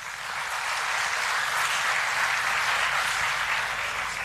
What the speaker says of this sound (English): Can you give one round of applause, please?